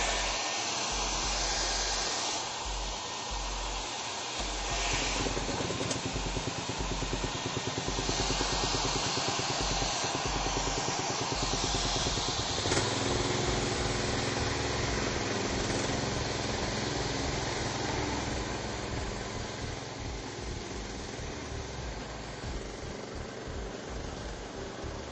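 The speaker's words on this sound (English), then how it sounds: "Remember when grinding inside, especially with a gas motor, that you want to make sure you have a well-ventilated area" A gas-motor concrete floor grinder, a Turbo Max Combo 7, runs indoors with an Edco dust collection system, giving a loud, continuous engine drone and grinding roar that stays steady throughout.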